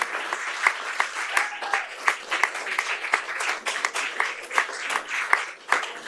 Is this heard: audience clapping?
yes